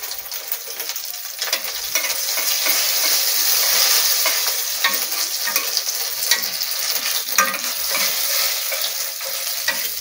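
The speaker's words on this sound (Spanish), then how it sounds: "agrego el aceite para freír las tortitas" Charales fish patties frying in hot oil, a steady close crackling sizzle with small bubbling pops throughout, no voices.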